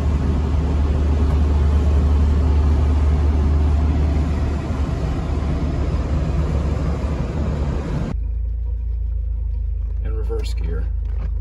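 A 1987 Alfa Romeo Quadrifoglio engine drones steadily while driving, a loud low rumble from inside the car that cuts off abruptly and gives way to quieter road noise and faint brief sounds.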